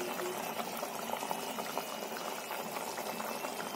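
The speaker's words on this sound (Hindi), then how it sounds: "इसमें पनीर डाल रहे हैं" Masala paneer gravy bubbles at a steady boil in a pan as paneer pieces go in, a continuous soft, faint bubbling with no voices.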